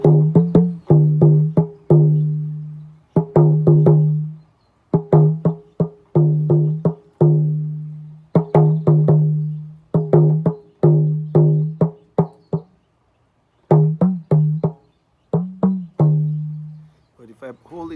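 Loose-skinned hand drum, a Yoruba talking drum, struck in quick rhythmic phrases, each stroke ringing with a booming low pitch that does not bend, played alone and up close.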